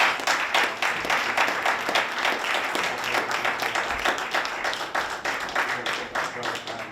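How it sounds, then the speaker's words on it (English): Steady applause from a religious gathering's audience for a speaker, dense overlapping claps sustained at an even level throughout, close and fairly loud with no talk over it. "Let's give our brother Michael, another round of applause."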